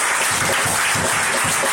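A church congregation applauds during a worship service, a dense, loud and continuous burst of many hands clapping together.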